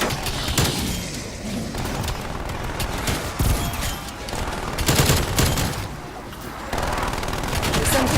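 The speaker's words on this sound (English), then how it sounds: "the sentry gun's actually really powerful" A sentry gun in a zombies video game fires in rapid, sustained bursts of loud gunfire, with thumps and crashes mixed among the shots.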